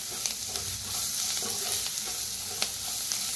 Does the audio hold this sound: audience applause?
no